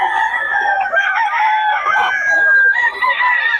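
A Boston Lemon bloodline gamefowl rooster crows loudly and close, one long continuous call with a slightly wavering pitch, while a faint murmur of voices runs underneath.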